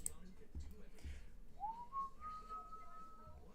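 A person whistles a tune in a quiet room, giving a single sustained, rising whistled note that holds steady, faint and alone after a couple of soft knocks.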